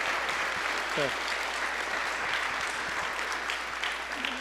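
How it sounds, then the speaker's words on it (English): Audience applause after a university speaker-series talk, a steady wash of clapping filling the whole clip at moderate distance, with a brief voice near the start. "a big round of applause"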